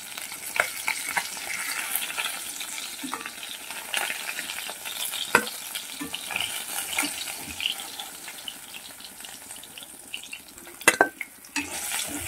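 Katla fish pieces frying in hot oil in a pan, a continuous close crackling sizzle with occasional louder spatters and a clink near the end, no voices.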